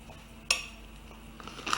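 A metal spoon clinks sharply against dishware while rice is spooned into hollowed tomatoes for stuffing, one bright clink followed by softer scraping taps.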